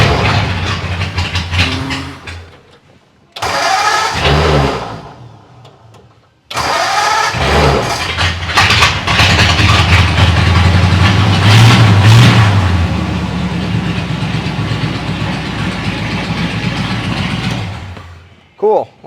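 Ford Model A Roadster drag racer starting on a push button: cranking bursts, then the engine catches and settles into a steady, loud rumbling idle close by, with someone talking over parts of it.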